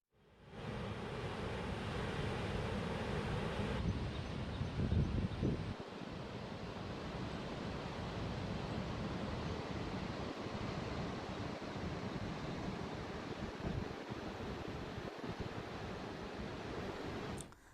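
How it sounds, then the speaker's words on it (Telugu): Heavy floodwater pours through Srisailam Reservoir on the Krishna River as a constant, dense roar of rushing water that stays steady and unbroken throughout, with no voices. "ఇంకా వరద ప్రవాహం కొనసాగుతోంది"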